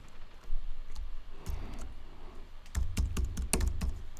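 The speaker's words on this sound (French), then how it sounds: "si on tape magazine cover dans Google" A search query is typed on a computer keyboard in quick, uneven clusters of close key clicks, ending in a fast run of taps.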